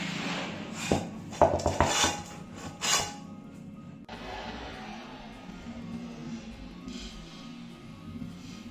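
A homemade moong dal pizza being cut, with clinks, scrapes and knocks of a cutter or knife against a metal pan, busiest in the first three seconds, then a quieter stretch of faint scraping.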